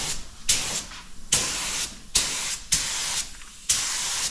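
Spray gun laying a light tack coat of paint on aftermarket Jeep fender flares, hissing in repeated bursts that each start sharply, close and loud with no talking.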